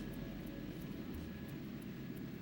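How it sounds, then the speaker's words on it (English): Helicopter flying over high mountain slopes above the tree line, a steady, loud, close engine roar with a rapid rotor pulse beating throughout. "Scott and Decker catch a helicopter ride to where avalanches are born, on the high slopes above the tree line"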